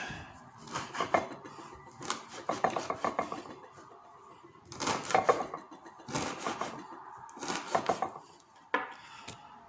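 Speedwell herb is chopped for a tincture in quiet, close bursts of rapid knocking, five or six clusters separated by short pauses, with no talk.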